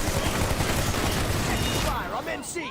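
Rapid gunfire in the PlanetSide 2 video game, a dense continuous volley of shots with game effects, loud and close throughout, easing slightly near the end with a voice heard alongside.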